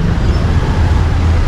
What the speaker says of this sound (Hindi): बहुत ही ज़्यादा ट्रैफिक.